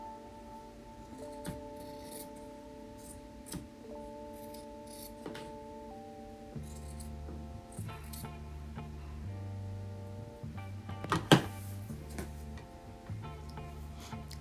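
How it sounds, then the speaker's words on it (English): Fine scissors snip fabric strips for a quilt block in a series of quiet, close, crisp cuts, spaced irregularly over a soft background with a faint steady hum, with no speech. "I really like using a really fine pair of scissors, and I even enjoy the sound that it makes."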